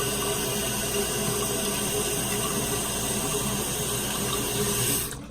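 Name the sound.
toilet tank refilling with water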